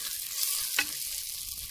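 Green chillies and onion sauté in a clay pot, a brief burst of sizzling with a single stirring scrape in the middle.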